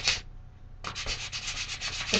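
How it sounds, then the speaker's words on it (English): Sandpaper rubs paint off an unfinished wooden bangle in a quick burst of rhythmic strokes after a short pause, soft, dry and close. "get your sanding paper and sand"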